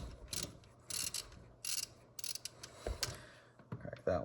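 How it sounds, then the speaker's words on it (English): A ratchet with a 13 mm socket clicks in quick bursts as it loosens a thermostat housing bolt on a 2010-2019 Dodge Ram 1500, close and fairly quiet, with short pauses between the runs of clicks. "I'm gonna put the 13 millimeter socket on there"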